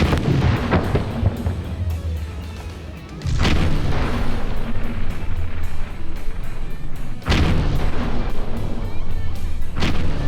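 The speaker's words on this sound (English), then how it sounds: "They explode, that's for sure." Special exploding targets being shot on an outdoor range, loud sharp booms with heavy reports at irregular intervals, each blast leaving a rumbling decay, with no talking heard.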